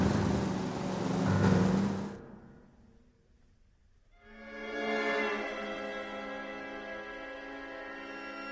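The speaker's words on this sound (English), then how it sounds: "That's the car, Cole. Just pulling out of the drive." A car pulls out of a drive in L.A. Noire: an engine revs up near and loud, eases off briefly, then rises again into a steady, droning acceleration as it moves off, with no talking.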